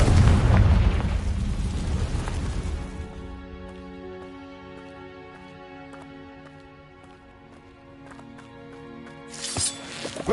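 A Confringo blasting spell explodes in Hogwarts Legacy, a loud, rumbling burst at the start that decays into a sustained orchestral score, with another sharp burst flaring up near the end.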